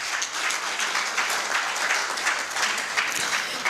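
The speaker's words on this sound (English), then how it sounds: "you can give a round of applause." Audience applause at an ENT nurses' tenth anniversary scientific session, steady dense clapping from a hall crowd lasting the whole few seconds.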